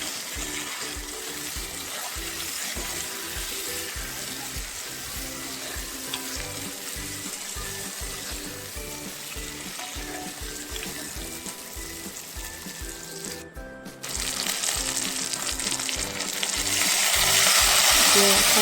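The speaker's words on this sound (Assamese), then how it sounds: "যিখিনি মাছ ফ্ৰাই কৰি থৈছিলোঁ সেইখিনি দি টুকুৰা মাছ এতিয়া পিঁয়াজৰ লগত" Fried fish pieces sizzle with onions in a hot pan for a fish curry with herb gravy, a steady close frying hiss with light stirring scrapes that swells louder near the end.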